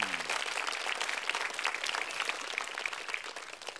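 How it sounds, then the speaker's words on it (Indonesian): A crowd applauds steadily, dense clapping at full strength throughout, tapering slightly toward the end. "Sekali lagi boleh tepuk tangan"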